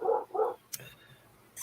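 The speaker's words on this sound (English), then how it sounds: "And the dogs are barking." Dogs bark twice in quick succession, close and fairly loud, followed by a brief sharp sound and a quiet gap before another burst.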